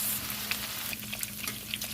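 Steady crackling sizzle of pork chops frying in a hot pan, with sharp pops scattered throughout, close by and continuous.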